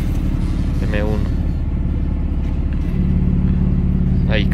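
BMW M4 engine running with its exhaust valves opened, a steady loud engine drone throughout with a deeper, fuller tone in the latter part.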